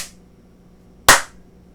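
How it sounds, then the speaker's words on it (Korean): A single sharp hand clap near the microphone to trigger an Arduino sound sensor module, crisp and loud with a short decaying ring in an otherwise quiet room. "박수를 쳐볼게요."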